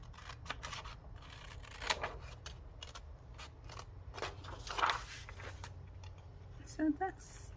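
Scissors snip through book-page or junk-mail paper in a run of irregular close cuts and crisp rustles, with a couple of louder crunches and some light handling noise.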